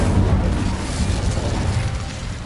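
Incendio fire spell blast in the Hogwarts Legacy video game: a loud, dense roaring burst of flame that fills the whole moment without letup.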